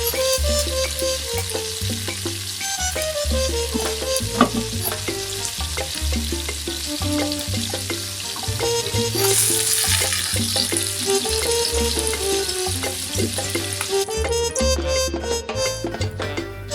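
A snack fries in a pan with a continuous loud sizzle, close up, while a steady background hum and occasional clinks of utensils run through it; no one speaks.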